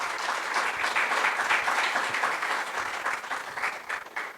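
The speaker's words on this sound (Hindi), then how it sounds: "आइए हम प्रभु को जोरदार तालियों से धन्यवाद देते हैं" A church congregation at a Sunday service bursts into steady, dense applause that fills the room, loud and sustained throughout with no speaking over it.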